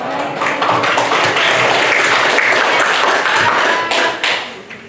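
Audience applause after a presentation, a loud, dense burst of clapping that holds steady for several seconds and then tapers off near the end.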